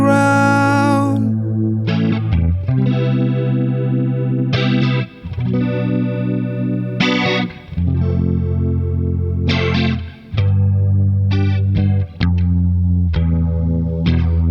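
Ibanez GRX40 electric guitar played through effects with chorus and distortion, a sustained strummed chord progression with brief gaps between chord changes, loud and close with no talking.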